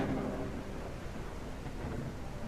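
A summoned thunderstorm in a video game: a dense, continuous rumble of thunder blended with steady rain hiss, filling the whole moment at an even moderate level, with no talking.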